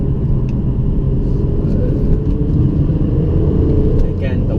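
BMW E46 M3 with a six-speed manual in sports mode, its engine held at a low, steady rumble under feathered light throttle, close and continuous with no sharp rev rise.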